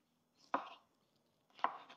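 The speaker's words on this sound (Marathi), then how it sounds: "आपण आता शिमला मिरची डॅश कटिंग करून घेऊ।" Two separate knife chops through capsicum (bell pepper) on a board, each a crisp, close thud with a short crunch, set in otherwise quiet surroundings.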